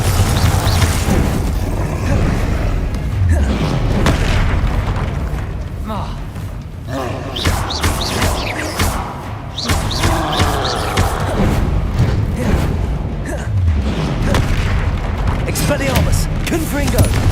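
Confringo spells go off in the Hogwarts Legacy video game as loud, booming explosive blasts and thuds during a fast fight, mixed with shouted voices and other combat effects throughout.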